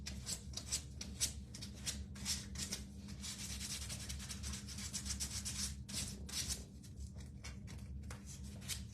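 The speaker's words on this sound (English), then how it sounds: "So I was just using the sandpaper." Sandpaper roughs up the edges of a wooden blank for an Easter bunny craft, a close, continuous scratchy rubbing in quick repeated strokes.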